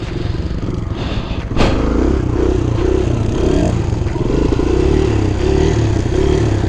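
A Kawasaki KLX 110 pit bike revs hard during wheelie practice, a loud, close, continuous engine drone with rising pitch and a brief clatter early on.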